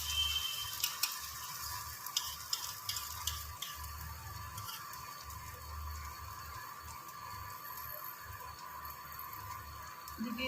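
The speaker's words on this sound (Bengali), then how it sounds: "এরকম ভাবে ঢেলে দিয়ে এটাকে হাই ফ্লেমে খানিকক্ষণ ভাজবো" Oats cheela batter fries in hot oil over a high flame, giving a steady low crackling sizzle throughout with a few sharp ticks and pops near the start, fairly faint and with no talking.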